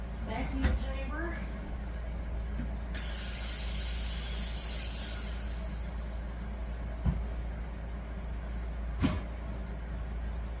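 A vacuum chamber pulls air from a cup of resin, giving a steady low mechanical drone with a broad hiss that rises partway through, a few faint clicks, and a person speaking over it nearby.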